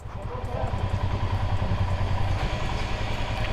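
A motorcycle engine runs at a steady low rumble close by while the rider searches for parking in Guwahati, with someone talking over it throughout.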